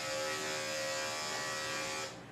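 A steady electric buzz from a dog grooming clipper fitted with a 7 blade runs close and even, then cuts off abruptly near the end.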